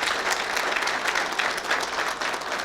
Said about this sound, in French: en compagnie de notre invité, Dr Saïd Sadi, que je vous demande d'applaudir chaleureusement, s'il vous plaît.